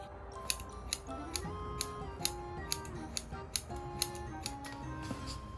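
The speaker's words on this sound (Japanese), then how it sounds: "2、3センチ こう縦にハサミを入れていきます。" Scissors snip vertically into the hair of a cosplay wig being styled in a visual-kei look, giving about a dozen crisp, close cuts at a steady rhythm over soft background music.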